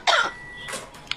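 A single sharp cough bursts out up close, followed by a softer throat sound and a faint click.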